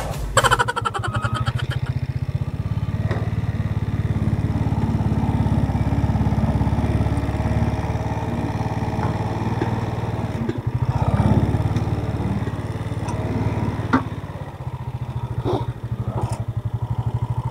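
A parked motorcycle's engine idles steadily and close by in a forest setting, a continuous low throbbing rumble with faint clatter that runs unbroken for the whole stretch.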